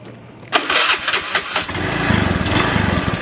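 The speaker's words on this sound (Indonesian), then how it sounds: "Gede hurung motor teh." A motorcycle engine catches with a sharp burst, then settles into a loud, close, throbbing idle with steady low pulses; no one speaks.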